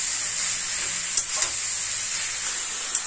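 Food frying in a pan in a home kitchen, a steady bright sizzle that holds throughout, with a few soft utensil scrapes and clicks near the start and end.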